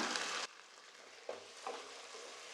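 Tomato with ginger garlic paste sautés in a pan, a loud hissing sizzle that cuts off abruptly, then quieter frying with short bursts of crackle as the mixture is stirred.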